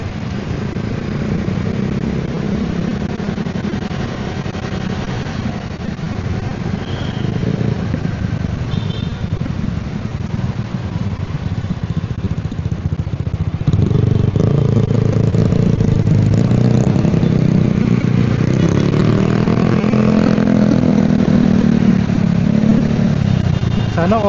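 A Yamaha Mio Gravis V2 scooter engine runs steadily, then grows louder and rougher about halfway through, with a mechanical clatter under the drone.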